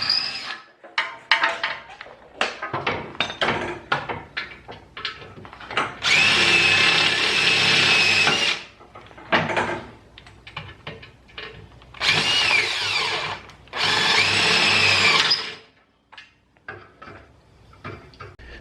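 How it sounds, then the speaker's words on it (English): A power drill bores out rivets on the trailing arms of a 2021 Can-Am X3 XMR Turbo RR, with loud, sustained whining drill bursts alternating with rapid metallic clanks and rattles of loosened parts, all close up. "Now it's time to drill out the rivets."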